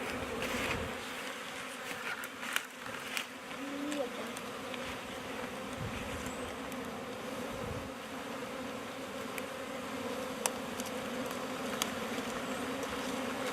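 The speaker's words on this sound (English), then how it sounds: "I'm going to try to cut these these things off and shake the bees into the hive." A swarm of honeybees being shaken from a cluster into a hive box gives off a dense, steady buzzing that fills the whole stretch, with a few soft knocks and thumps close by.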